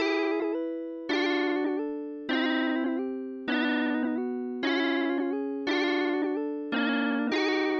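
A budget groovebox fires a noise stab preset seven times in a steady rhythm, each hit bright and buzzy with a sharp attack and a fading tail, loud and close with no talking.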